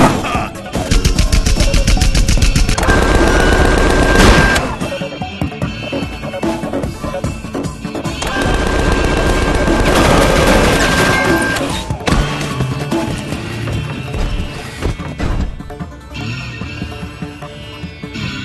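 A robot firing guns in Tales from the Borderlands, with loud rapid bursts of gunfire, crashes and booms in several stretches, mixed with game music and brief spoken lines.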